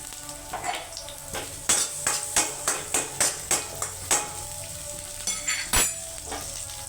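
Chopped large onion hitting hot oil in a pan while cooking a small-leaf greens and dal dish, with a run of rhythmic stirring scrapes and clinks over a steady sizzle, close and fairly loud.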